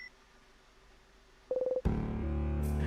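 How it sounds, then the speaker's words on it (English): Telephone hang-up tones in the video game In Stars and Time: a short run of rapid beeping pulses, then a sudden louder electronic tone that holds steady to the end. "Hangs up the phone."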